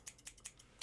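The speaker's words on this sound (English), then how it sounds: "Got two scissors" Scissors are handled, a pair of haircutting scissors and a pair of kitchen scissors, giving a quick run of five or six faint metallic snips and clicks in a near, quiet room.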